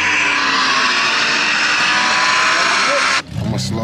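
Street racing car on a Chicago street roaring past at speed, a loud sustained engine rush with voices mixed in that drops away suddenly near the end.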